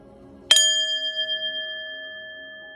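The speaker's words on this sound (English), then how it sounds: "So I'm gonna ring the bell" A bell rung once to clear energy during a tarot card reading: one bright, sharp strike followed by a clear, pure ring that hangs and slowly fades, close by with no talking.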